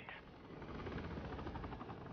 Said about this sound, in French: Il y a les hélicos!